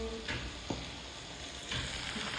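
Fish sizzles steadily in a hot frying pan, a constant hiss of oil with a couple of faint utensil taps, close and unbroken with no talking.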